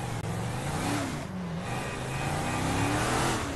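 Car engine in GTA 5 revving and accelerating hard, a steady loud rising drone held for several seconds as the vehicle speeds up to smash through a window.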